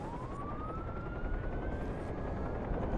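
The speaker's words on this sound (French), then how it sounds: "Attends, l'hélicoptère me suit." A police helicopter pursuing the player in the video game Watch Dogs, a steady rotor drone beneath a rising siren-like whine, loud and continuous throughout.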